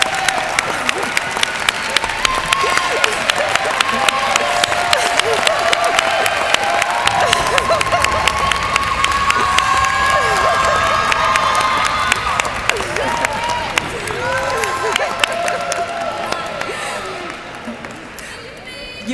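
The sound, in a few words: applause and cheering for standing students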